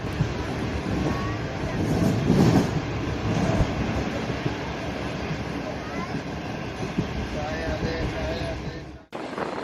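Green Line Express passenger train running from Karachi to Lahore, passing a rail yard after Sahiwal, with steady loud wheel and carriage rumble and clatter throughout, swelling near the middle before cutting off abruptly at the end.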